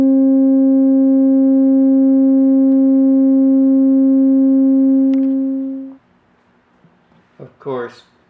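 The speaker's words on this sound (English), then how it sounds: "then I want to look at a sine wave on here." A loud, steady sine wave test tone played through a Decware Zen amplifier holds for about six seconds and then cuts off, followed by a short burst of speech.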